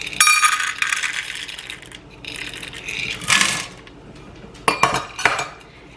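Lily's chocolate chips rattle and clatter as they are poured into a pan, in several bursts of hard pattering with brief pauses between, fairly close and without talk.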